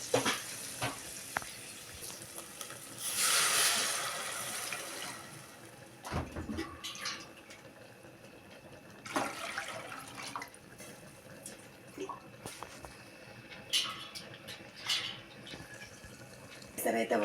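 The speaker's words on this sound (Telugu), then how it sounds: "దీంట్లో అయితే ఏసరు పోసేస్తాను నేను." Water poured into a hot pot for bagara rice, a loud hiss and sizzle that bursts up then settles into bubbling, with clinks and stirring and someone talking over it.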